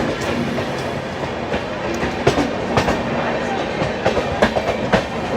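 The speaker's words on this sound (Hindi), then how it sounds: "कोई गाड़ी आ रही है सामने से, कानपुर सेंटर पे अराइवल ले रही है राजधानी एक्सप्रेस" Rajdhani Express on the New Delhi–Dibrugarh route arriving at Kanpur Central, a loud steady rumble of rolling coaches with rhythmic clickety-clack wheel beats and sharp clanks close by.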